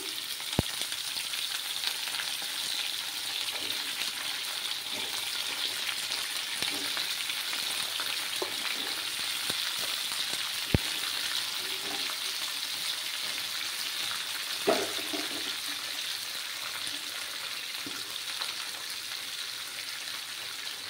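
Diced papaya fries in a pan, a continuous soft sizzle and crackle lasting the whole stretch, close and fairly quiet, with a few sharp clicks and a couple of louder pops scattered through it.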